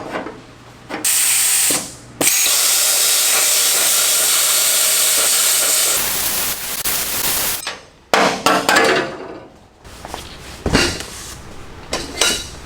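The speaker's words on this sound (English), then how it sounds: "as the plasma cutter tip just basically follows the inside of the ring as it goes around there" Plasma cutter slicing a round hole in sheet metal for a turbo LS1 cold-side intercooler pipe on an F100, a loud steady hiss and roar with brief breaks and scraping, clanking handling noises toward the end.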